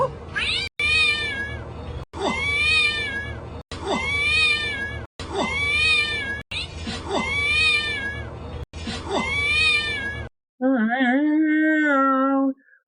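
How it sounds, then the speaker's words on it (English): A cat meows repeatedly while spinning around on a fan, giving a run of loud, evenly spaced meows that swoop in pitch as it moves toward and away, ending in a longer wavering cry. "I want you guys to listen to the cat now as it travels towards and away from you"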